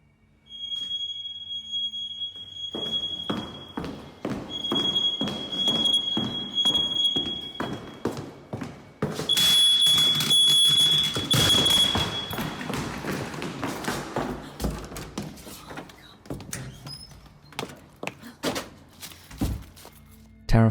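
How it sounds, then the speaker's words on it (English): A ceiling-mounted smoke detector sounds a piercing, steady high-pitched tone in bursts inside a darkened room, mixed with loud thumps and bangs. "the fire alarm is then inexplicably set off"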